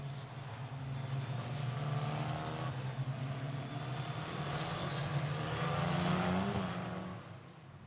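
Italian F4 race cars at the Vallelunga circuit drone steadily past in a sustained engine roar that swells and fades slightly, heard from a distance without any voices.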